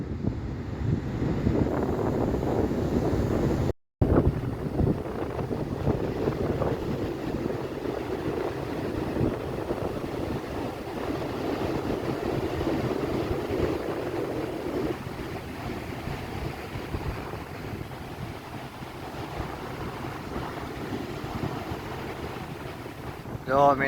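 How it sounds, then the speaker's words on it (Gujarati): Steady roaring surf with wind buffeting the microphone, a continuous low rumble of breaking waves that swells and eases, heard from close by without any voices. "અવાજ જુઓ તમે દરિયો કેટલો ઘૂઘવાટ કરી રહ્યો છે"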